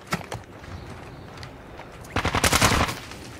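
Close gunfire in Call of Duty DMZ: a couple of sharp shots at the start, a quiet gap, then a tight burst of about six rapid automatic rounds before it falls silent again.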